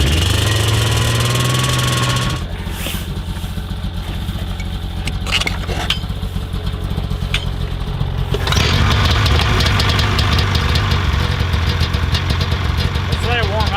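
A snowmobile engine idles steadily outdoors in Alaska to thaw a frozen throttle, a loud, continuous mechanical rumble that shifts in tone partway through, with voices talking over it.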